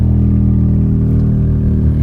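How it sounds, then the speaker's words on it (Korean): A loud, steady scooter engine drone from just ahead of an electric car on the road, a constant low hum with a rough, buzzing texture and no talking. "앞에 가는 스쿠터에서의 소리가 굉장히 크게 들리죠"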